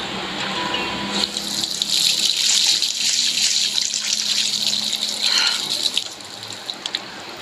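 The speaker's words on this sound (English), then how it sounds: "Go to the bathroom and splash." Running water gushes and splashes into a bathroom sink in the video game Life is Strange, a steady bright rushing stream that starts after a moment and carries on loud and continuous before easing near the end.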